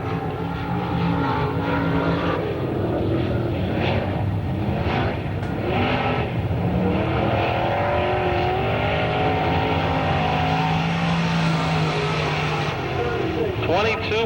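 Car number 63, a Barry Wright chassis race car driven by Pat McGuire, roars through a qualifying lap at a 1992 Pittsburgher race, a loud sustained engine drone with pitch rising and falling as it circles, under an announcer's voice.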